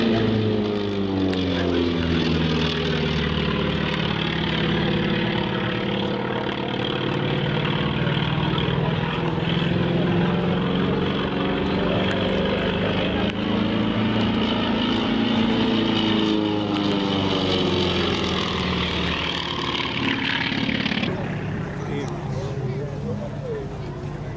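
A 1200-horsepower Wright Cyclone radial aircraft engine runs continuously with a deep, throbbing drone whose pitch slowly rises and falls, loud and close throughout, before the tone shifts and eases slightly near the end.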